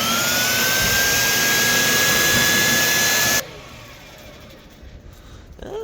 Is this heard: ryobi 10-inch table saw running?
yes